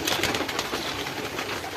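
Soft, throaty pigeon coos repeat in a steady burbling rhythm, close by, with no talking.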